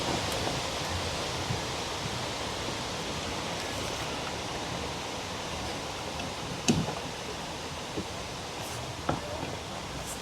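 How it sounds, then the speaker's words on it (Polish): Steady broadband wind roars continuously outdoors on a sailing yacht on a lake, with a couple of faint knocks and bumps standing out briefly. "mamy wiatr, no to teraz nie jest brutalny sztorm"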